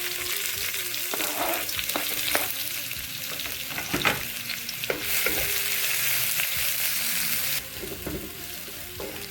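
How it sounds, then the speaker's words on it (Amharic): Onions sizzling and frying in oil for a vegan shawarma, with a steady close crackle broken by several stirring scrapes and clicks of a utensil in the pan, and no talk. "አሁን ሽንኩርታችንን እንጠብሳለን። ዘይት እናደርጋለን።"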